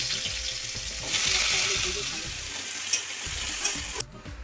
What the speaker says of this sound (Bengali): তেলের মধ্যে আমি জিরে ফোড়ন দিয়ে দিচ্ছি লঙ্কাটা দিয়ে দিচ্ছি এই আলুগুলোকে ভেজে নিচ্ছি